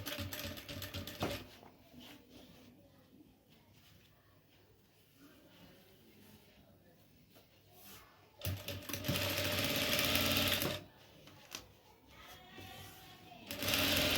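Sewing machine stitching a folded handkerchief, heard in close bursts of rapid mechanical whirring at the start, in the middle and at the end, with quieter pauses between runs.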